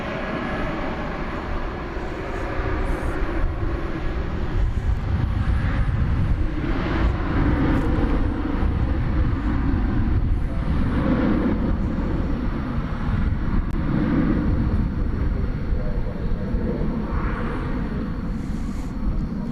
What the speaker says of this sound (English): There goes Singapore Airlines cargo into the cargo area here on the west side.